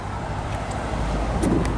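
A 1951 Morgan Plus 4 with a racing cam and a 4-speed gearbox drives along. A steady engine drone and road rumble mix with wind noise, continuous and close throughout.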